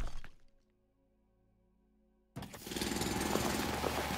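Rock being drilled in a mining and building video game, a brief tonal hum followed by a loud, steady, harsh grinding drill noise that continues to the end.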